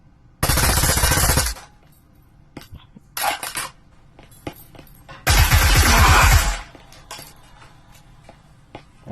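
An EMP effect going off in the VR shooter Breachers during a competitive match: a loud, roughly one-second crackling burst, then a shorter mid-level one and a second long, heavy blast, with no voices.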